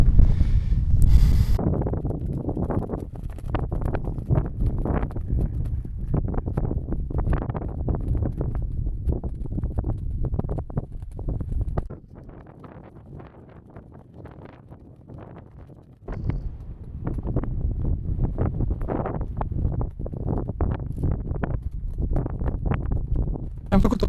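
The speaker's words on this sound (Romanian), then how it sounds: "Batem pe vânt" Strong wind buffets the microphone on a hilltop viewpoint in Cappadocia's Love Valley, in steady, rumbling gusts, easing briefly in the middle before roaring back.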